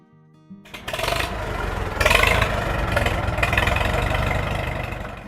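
A Farmall M tractor engine starts up and settles into a loud, steady running rumble with a slow, even beat, no voices over it.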